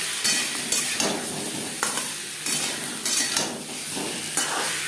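Potatoes fry in hot oil with salt and turmeric, giving a steady loud sizzle broken by rhythmic scrapes and stirs of a spatula in the pan roughly every second.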